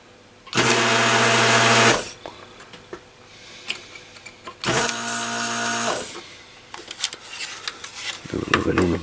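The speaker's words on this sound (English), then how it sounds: "I'm going to go ahead and suck the solder out of these holes here" A desoldering tool sucks solder out of circuit board holes in two loud, sharp bursts of roughly a second each, with quieter clicks and handling noise in between.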